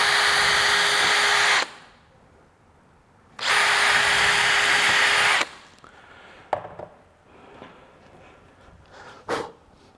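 Cordless power drill driving a screw into workbench wood, two loud sustained whirring bursts of about two seconds each separated by a pause, followed by quieter handling knocks and clicks, close up.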